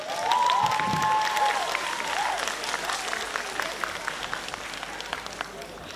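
Audience applause at a school freshman ball at Colegiul Național Ștefan cel Mare in Suceava, a dense steady clapping that fills the room throughout, with a few cheers and some voices mixed in.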